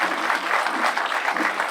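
Dense audience applause at an Indian Independence Day flag-raising ceremony after a speech, a continuous wash of many hands clapping, fairly loud and close throughout the short stretch.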